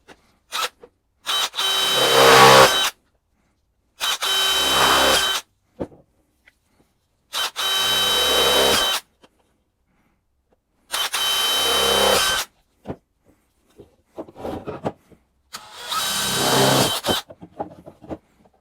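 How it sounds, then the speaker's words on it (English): A power drill bores a series of holes through wood while a bottle feeder is being built, in five loud sustained bursts of a few seconds each, with short pauses and quiet handling between them. "And then we'll go back and drill our holes."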